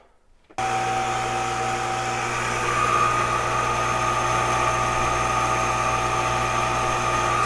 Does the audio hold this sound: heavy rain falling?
no